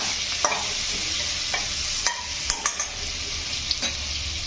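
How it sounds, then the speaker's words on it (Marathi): Ginger, garlic and chili paste sautéing in oil for spicy vegetable pulao, a constant close sizzle with several sharp spatula taps and scrapes against the pan, no voices. "आता हे सर्व आपण छान असं एक ते दोन मिनटं छान असं हे परतून घेऊया"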